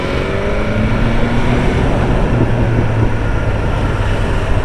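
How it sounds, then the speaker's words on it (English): Motorcycle filtering past a bus in traffic, a loud continuous engine drone with steady wind rush and low tonal hum, close and unbroken throughout. "just get past this bus."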